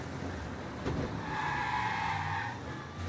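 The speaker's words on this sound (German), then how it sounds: "ist so ein Hot Rod Car. Das ziemlich schnell fährt, wie man sieht." Hot rod car from around 1938 in the video game Mafia Definitive Edition driving fast, a steady engine roar with squealing tires running continuously and close, fairly loud, with no talking.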